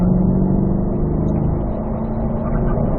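A Corvette accelerates on a racetrack during performance driving school, a steady, strong engine drone with a slightly rising tone, close and continuous.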